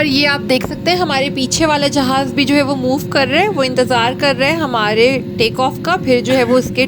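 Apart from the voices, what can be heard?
No everyday noise stands out behind the speech.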